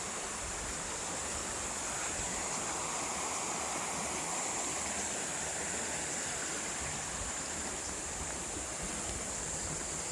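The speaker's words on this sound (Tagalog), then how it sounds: "Tabing ilog na ito." Riverside stream flowing steadily, a dense broadband rush of water that stays even and close throughout with no voices.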